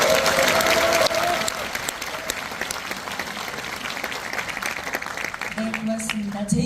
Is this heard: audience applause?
yes